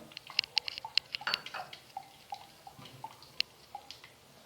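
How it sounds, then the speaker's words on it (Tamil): Water sloshed in a mixer jar to rinse out tamarind pulp produces small drips, splashes and light clinks, sparse and close, scattered irregularly against a quiet background. "கொஞ்சமாக மிக்ஸி ஜாரில் தண்ணி ஊற்றி அலசி எடுத்துக்கிடலாம்."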